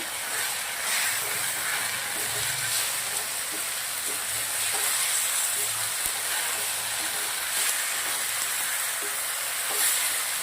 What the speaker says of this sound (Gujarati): હવે આપણા જે ભીંડી કરી રાખી છે પેલી ભીંડી એ નાખી દેશું અંદર મસ્ત મિક્સ કરી દેશું